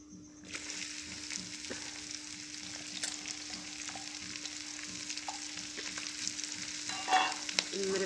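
Onions and cumin fry in a pan with a steady, even sizzle and the occasional stir or tap, heard at moderate volume with no talking.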